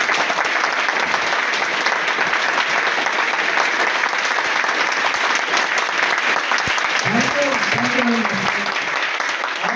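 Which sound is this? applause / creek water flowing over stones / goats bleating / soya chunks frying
applause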